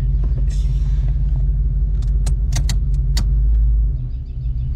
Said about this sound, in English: When it comes to mechanically adjusting a little bit of a high idle, even though it's a fuel injected car, we're right there at 750.